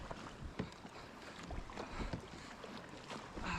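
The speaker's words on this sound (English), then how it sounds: "But first, I had to paddle out there." A small boat is paddled out across calm, windless water on a fishing trip, with soft repeated strokes and splashes over steady wind-like hiss and water noise, no voices.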